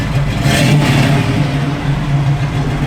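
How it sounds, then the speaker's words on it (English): A 1969 Chevrolet Camaro engine, heard up close, revs once and settles back toward a rumbling idle, loud and steady for a few seconds. "Give it a little rev."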